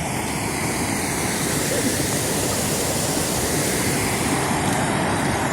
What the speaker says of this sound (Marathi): हा नदी आहे. नदीचा हा प्रवेशद्वार आहे.